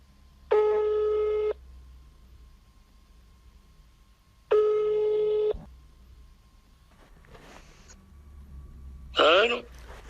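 Outgoing smartphone call ringback tone: two long harmonic rings about four seconds apart, loud and close over a low hum, followed by a brief garbled burst of connection noise as the line picks up.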